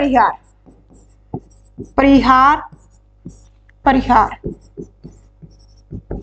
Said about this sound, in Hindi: दूसरी टाइप का भी इधर लिख देती हूँ